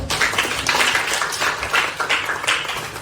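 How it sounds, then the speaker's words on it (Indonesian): A group claps hands in a classroom, an uneven burst of applause with rising and falling waves of dense clapping over about three seconds. "Oke, tepuk tangan."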